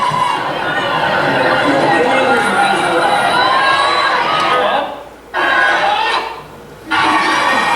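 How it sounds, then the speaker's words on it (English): A crowd at a football game roars and cheers after a late fourth-quarter touchdown, loud and sustained with excited shouting and chatter, then cuts off sharply twice near the end. "just pay attention to the crowd, boys, and the excitement as they don't give up"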